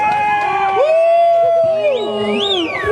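Crowd at a hydrofoil riding event in Jacksonville, Florida, cheers and whoops for a rider, a steady roar of voices with rising shouts, heard close and loud throughout.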